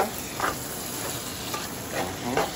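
Ground pork sisig seasoned with black pepper stirred in a sizzling pan, a spatula scraping in repeated strokes over constant frying crackle, close and fairly loud, no talk.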